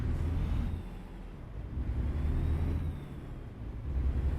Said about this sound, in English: Driving a big old truck